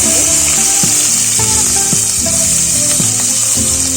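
Finely chopped onion and whole garam masala fry in hot oil with a loud, steady sizzle, and rhythmic stirring knocks sound against the pan every half second or so.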